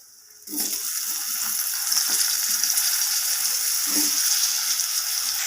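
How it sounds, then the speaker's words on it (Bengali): Cut potatoes dropped into hot oil for an aloo-begun hilsa curry, bursting into a loud, steady hiss after a brief quiet start, with soft clinks and scrapes of a spatula in the pan. "ওই তেলের মধ্যেই আমার কেটে রাখা আমি আলুগুলোকে এখানে দিয়ে দিলাম আলুগুলোকে ভালোভাবে ভেজে নেব"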